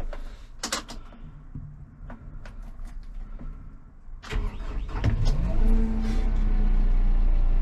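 A Kubota M6-131 snow plow tractor's engine cranks over and catches, starting after a few clicks and rustles, then settles into a loud, steady diesel idle close by.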